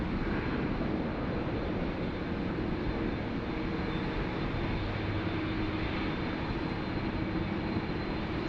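A Qantas QF11 jet departs Sydney Airport in stormy weather, its engines a steady, distant broadband roar that holds evenly throughout without voices.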